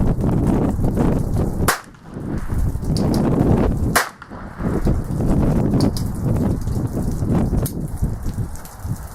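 Several sharp, loud gunshots from a North American Arms Mini Mag revolver fired outdoors, spaced irregularly with a steady rushing background of wind between the cracks.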